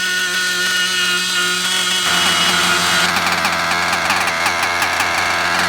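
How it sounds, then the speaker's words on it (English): A modified Novarossi .28 nitro engine screams at close range, idling with a buzzing whine before revving up sharply about two seconds in and holding a loud, raspy high-RPM howl, no talking over it. "Then we're going to be giving her some RPM"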